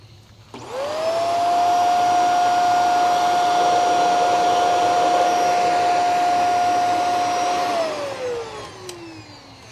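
A Shark NV752 vacuum cleaner switched on, dated 2020, spins up to a loud, steady, piercing whine with a screechy high tone, holds it for several seconds, then winds down as it is switched off.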